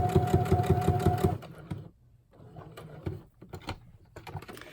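A sewing machine stitches around a glued piece in one close, loud, rapid run lasting just over a second, followed by softer scattered clicks and handling noises.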